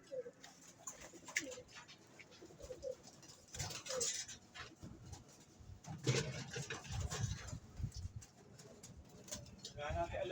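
Pigeon coos from birds in a fancier's loft, soft repeated low calls scattered through the clip under some background voices and movement.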